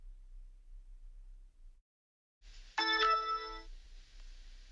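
A computer phone call rings after a short stretch of faint hiss and a brief silence: one bright, tonal ring burst, loud and close, that fades into low static.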